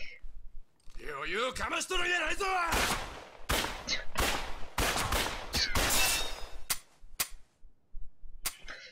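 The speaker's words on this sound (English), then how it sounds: "I'ma shoot you." Gunfire in the video game Ryu Ga Gotoku Ishin bursts as a series of sharp, loud shots in irregular clusters, some rapid, with someone talking over the opening seconds.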